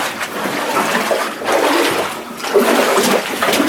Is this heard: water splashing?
yes